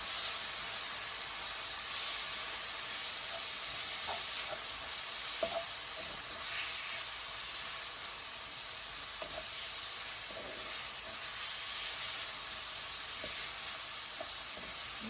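Chopped peppers sizzle steadily in a hot pan, a continuous close, even hiss with faint scattered pops and no talking.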